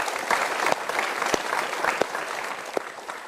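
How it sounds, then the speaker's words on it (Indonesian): A studio audience at a motivational talk show claps steadily, a dense, even patter of applause with a few sharper individual claps standing out. "Kita berikan tepuk tangan untuk dua orang yang mau curhat."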